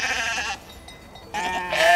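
Young ewes on a farm bleat close by, with one loud bleat, a brief quieter gap, then two more bleats that rise to a louder finish.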